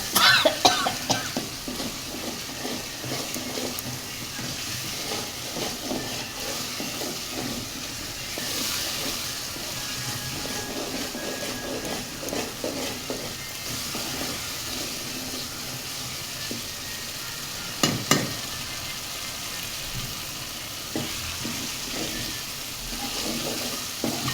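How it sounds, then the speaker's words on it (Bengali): Spices and chili sauté in a pan for a fish and bottle-gourd shrimp dish, a continuous sizzle and hiss with scraping stir strokes and a few louder clanks, close and steady. "অনেকক্ষণ কষাতে হয় মরিচ নাহলে মরিচের গন্ধগুলো যাবে না"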